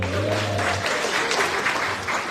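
A church congregation at a Sunday service applauds in a brisk, scattered clatter of hands. A low hum and a brief voice come in near the start.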